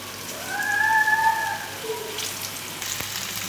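Chicken 65 pieces dropped one at a time into hot oil for deep-frying, giving a steady close sizzle and hiss throughout with no talking.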